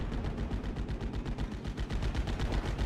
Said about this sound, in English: My AT gun managed to get some good shots